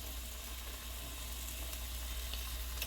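Bacon sizzling and frying in a pot, a steady, even crackle with faint spits and pops and no talking.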